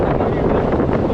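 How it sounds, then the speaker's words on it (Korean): Sail flapping hard on a sailing yacht in 40-knot-plus gale winds, a dense continuous roar of wind buffeting and fluttering canvas, loud and close with no pauses. "배가 너무 흔들려 배를 살짝 꺾으니 돛지 펄럭입니다."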